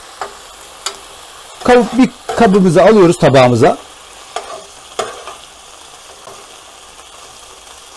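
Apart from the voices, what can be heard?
chicken pieces frying in a pan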